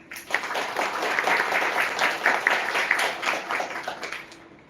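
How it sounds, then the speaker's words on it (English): Keynote audience at a design conference applauding, a moderate crowd of hands clapping in a steady patter that swells and then tapers off toward the end. "A huge round of applause for Figma."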